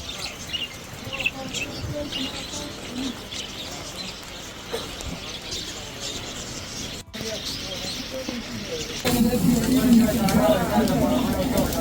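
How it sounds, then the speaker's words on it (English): Birds chirp and call at a bird market in Afghanistan, a dense, busy twittering that runs throughout under steady crowd noise and people talking nearby, growing louder near the end. "The bird market."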